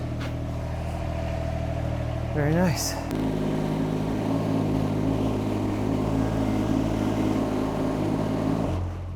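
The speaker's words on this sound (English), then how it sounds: "You know what's better than a parts tractor? A parts tractor that runs." An old parts tractor's engine runs with a steady loud drone that shifts to a lower, rougher idle partway through, while someone briefly speaks nearby.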